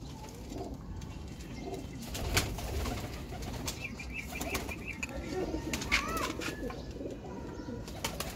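Kamagar and Teddy pigeons coo softly in a loft, with a few wing flaps and scattered calls over a low murmur of background noise.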